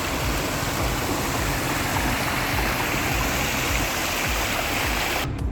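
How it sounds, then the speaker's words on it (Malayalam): Fresh water streams steadily into Al Hail Dam in Fujairah, UAE, a loud, close, unbroken rush with no pauses. "അവിടെ നല്ല വെള്ളം ഒലിച്ച് വന്നുകൊണ്ടിരിക്കുന്ന സ്ഥലമാണ്."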